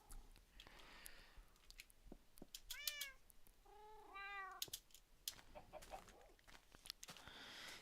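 A cat in a video game meows a few times, short clear cries over quiet game sounds with clicks and thumps, while a faint voice is also present.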